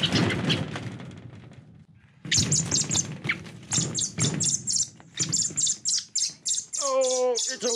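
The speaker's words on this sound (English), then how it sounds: "A little bird has gotten itself stuck in our greenhouse." A small bird trapped inside a greenhouse gives repeated sharp chirps and squawks, close and loud, in quick bursts with brief pauses, over a background of rustling and a few soft thumps.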